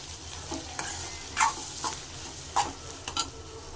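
Chili and coriander powder being stirred into a sizzling mixture in a frying pan for egg biryani, with a low fry hiss under several distinct clinking scrapes of a spoon against the pan at uneven intervals.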